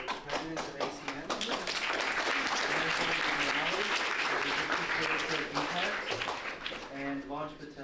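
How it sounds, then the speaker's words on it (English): Audience at a BeachHacks hackathon breaks into loud, sustained applause and cheering that swells and holds steady, with voices mixed into the crowd noise before it tapers off near the end. "please give a huge round of applause to Winston Taub and Keshav Jindal"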